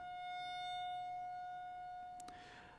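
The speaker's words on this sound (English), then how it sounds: "Ignore the siren, which I'm having trouble doing." A civil defense siren sounds during its monthly First Wednesday test: a steady, faint wail held throughout, distant and alone, with a brief noisy burst near the end.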